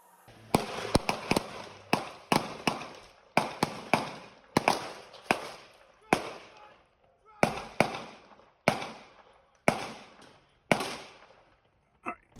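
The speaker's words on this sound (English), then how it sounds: "to this immediate and deadly threat, the two officers fired their duty weapons at Shanahan" Police duty weapons fire a rapid volley of sharp gunshots, around a dozen loud cracks with echoing tails, spaced roughly a second apart, with no talk.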